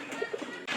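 A pigeon gives a few soft, short coos in a quick rhythm, close by and fairly faint, followed by a brief louder rustle at the end.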